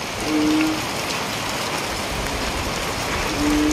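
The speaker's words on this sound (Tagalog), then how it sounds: "ang lakas-lakas na naman ang ulan" Heavy monsoon downpour during a red rainfall warning, a dense steady roar of rain close by that holds constant throughout, with wind rising.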